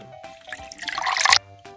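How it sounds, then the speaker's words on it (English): Water is poured through a plastic funnel into a small container during a children's science kit activity, a rising splashing trickle that builds for about a second and stops abruptly, with near, clear sound and no talk over it. "we'll put our funnel in there. And we'll put some water"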